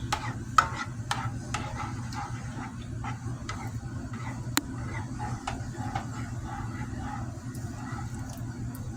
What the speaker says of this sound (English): So I'm going to continue to stir this up until it is heated through and there are no like big clumps or anything like that